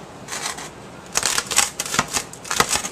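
Crusty French bread is sliced with a cutting contraption, giving a quick series of crisp, crunchy scraping bursts that come close up and grow stronger after a quieter first second.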